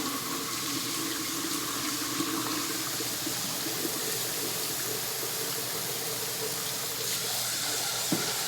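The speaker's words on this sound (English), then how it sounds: "And I wash my rice 3 times." Rice being washed in water, a steady close rush of running and sloshing water, like a tap filling a sink, going on without a break.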